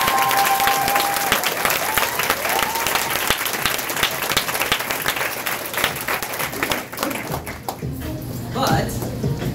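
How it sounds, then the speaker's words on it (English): Sustained applause from a group at a training session, loud and dense throughout, with talk mixed in and fading toward the end. "give Calvin a round of applause."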